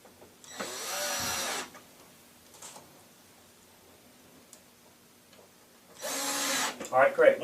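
A power drill drives screws into a Lazy Susan bearing mount, two bursts of whirring near the start and end, each roughly a second or more long, with a quieter stretch between them.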